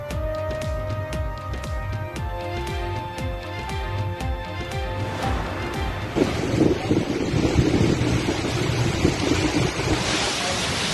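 Ocean surf rolling continuously onto a beach, a steady broad wash that swells louder in the second half, with wind noise buffeting the microphone and a faint rhythmic pulsing underneath.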